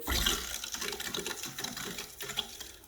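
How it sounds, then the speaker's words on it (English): Water rushes and gurgles through a household pipe as a valve is opened gently, a steady soft hiss and flow with small fluctuations, quiet and close, without talk. "I see water coming up to the valve. I am going to open up a first valve gently"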